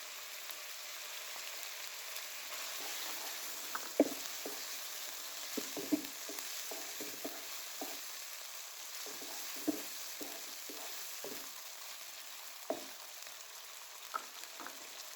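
Chicken and small-cut tomatoes fry in a pan for a chicken vegetable macaroni, a quiet even hiss with scattered clicks and taps from stirring, faint and close with nobody talking.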